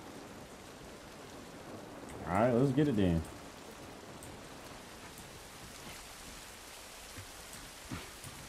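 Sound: rain in a video game

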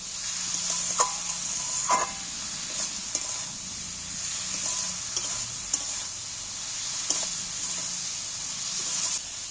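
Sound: spice masala with turmeric being sautéed in a pan

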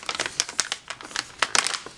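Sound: crinkling plastic packaging being opened

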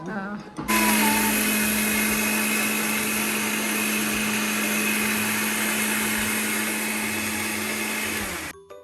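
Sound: blender whipping mayonnaise from egg and sunflower oil

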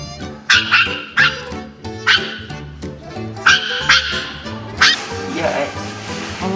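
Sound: small dog barking

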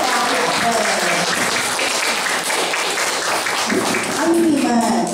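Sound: applause welcoming guests

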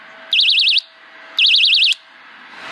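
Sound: FishingSir fishing rod fish bite alarm sounding at loudest volume

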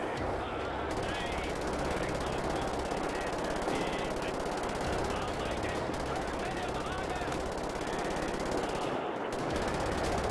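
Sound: gunfire in video game Wolfenstein: The New Order

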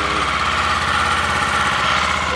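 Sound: Kawasaki Eliminator 500cc motorcycle engine starting and idling

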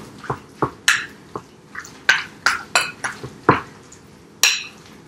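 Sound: mixing chicken pot pie filling in a bowl

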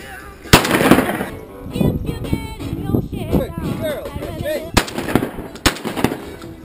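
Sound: shotgun shot during a dove hunt

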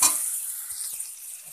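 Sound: raw mango frying with salt and turmeric

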